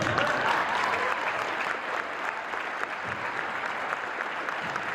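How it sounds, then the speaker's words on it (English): Steady applause from a large crowd, sustained clapping throughout with no pauses. "Let's give them another round of applause."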